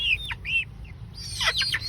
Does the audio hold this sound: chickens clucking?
yes